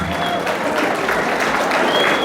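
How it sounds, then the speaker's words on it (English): An audience at an evening awards event gives a round of applause, dense continuous clapping throughout with crowd murmur and voices mixed in. "we'd like you to give them a round of applause"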